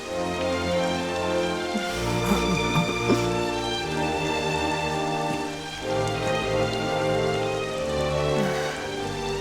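Steady rain from the video game Dragon Quest XI S pours over a sustained musical drone, a constant wash of droplets at even loudness throughout.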